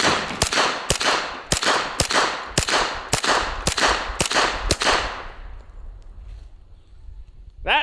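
Tommy gun firing repeatedly at a stacked wall of cinder blocks, about a dozen loud sharp shots in an uneven rhythm over five seconds, followed by a rumbling tail as the shots stop.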